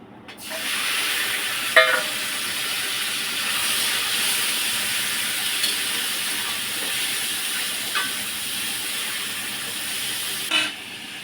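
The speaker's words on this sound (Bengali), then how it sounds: "চিকেনটা ভেজে নিই।" Chicken pieces fry in hot oil in a pan, a steady loud sizzling hiss that sets in after a brief quiet start and stays constant, with a few small clinks and spatters.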